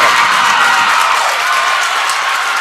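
A crowd at a girls' high school regional final volleyball match cheers and applauds loudly and steadily, a dense wash of clapping and shouts with no break.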